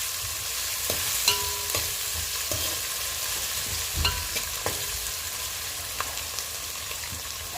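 Ginger garlic paste fries in a pan for veg pulao, giving a steady low sizzle with scattered clicks and taps of a utensil stirring at intervals.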